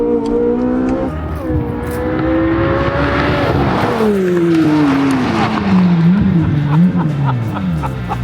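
A Chevy Corvette Z06 spinning its wide 345 rear tires on a race track, loud and close, with the engine revving and its pitch sliding up and down over a continuous tire roar and squeal.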